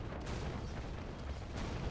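Massed cannon fire from a Red Alert 2 multiplayer battle among Rhino tanks, heard as a dense, continuous roar of low booms and bursts layered over one another, loud and steady throughout without a clear break.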